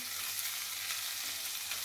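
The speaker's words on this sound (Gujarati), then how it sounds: "લીલું લસણ લીધું છે ઝીણું સમારીને, એને સાંતળી લઈશું" Finely chopped green garlic and green onion sauté in hot oil, giving a soft, even, continuous sizzle with no breaks and no voices over it.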